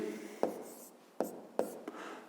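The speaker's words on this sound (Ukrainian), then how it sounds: "То записуємо тоді 5 дія" Pen writing on paper during a fifth-grade math lesson, a few quiet separate scratchy strokes with pauses between them, close and soft, with no talking over them.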